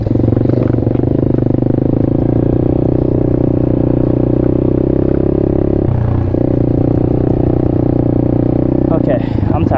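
Engine of an Apollo RFZ Chinese dirt/pit bike during a wheelie, a loud, buzzing drone held at steady revs with a brief dip and pickup midway, with voices mixed in.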